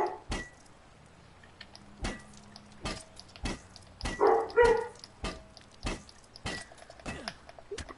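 A dog barks in Far Cry 5, repeated sharp barks at irregular intervals over a quiet game background, with a louder cluster of barks in the middle.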